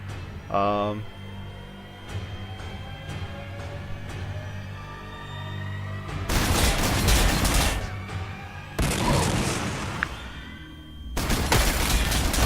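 A super cannon on a tank fires in Warhammer 40k Sanctus Reach, three heavy blasts of roaring noise that each hold for a second or two, following quieter mechanical battle sounds.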